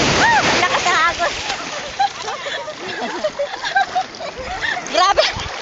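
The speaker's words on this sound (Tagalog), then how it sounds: "Lakas ng agos." Rushing, splashing water from a strong current at Ambay Beach fills the clip, with excited voices and shouts of swimmers breaking in over the churn.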